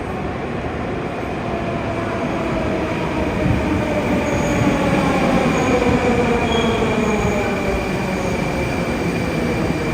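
Moscow metro train arriving at a deep underground station at night, a loud continuous rumble of rolling wheels and carriages with a faint high squeal, steady throughout and with no talk.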